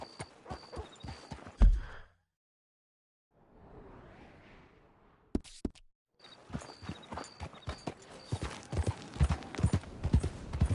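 Horse hooves clip-clop in the Red Dead Redemption 2 video game, a brisk rhythmic patter of steps that drops out briefly, then returns busier and louder alongside faint whooshes.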